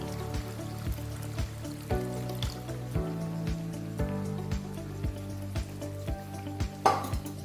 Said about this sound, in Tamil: இப்போ புளி தண்ணி ஊற்றிக்கலாம்.